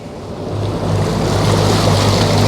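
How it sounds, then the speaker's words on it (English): Yamaha outboard engine on a Yellowfin 7600 Southerner boat idling out on the water, a steady low drone with a constant hum under wind and water wash, loud and close throughout. "It's idling along. Smooth, quiet Yamaha."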